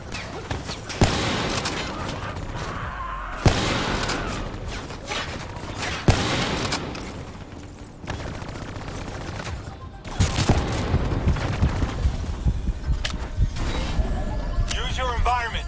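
Bursts of automatic gunfire and single shots in Call of Duty: Black Ops 3, loud rapid fusillades broken by short pauses, with a voice talking over parts of the action.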